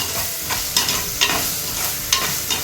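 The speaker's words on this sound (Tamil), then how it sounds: "இப்போ கொஞ்சமாக சேர்த்துக்கோங்க இது நல்லா பச்சை வாசனை போகட்டும்" Marinated prawns sautéing in a pan, a loud continuous sizzle with regular scraping strokes of a spatula roughly every half second, close up.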